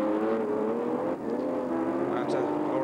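Historic race cars at the Montlhéry circuit, the rest of a historic Grand Prix field, roar past in a continuous dense engine drone with shifting pitch, loud and close.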